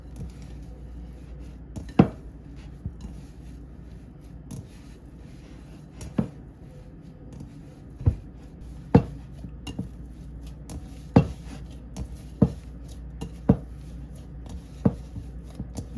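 Milk being mixed into Jamaican festival dough in a bowl, with a series of sharp, irregular knocks and clacks spaced a second or two apart over a quiet background.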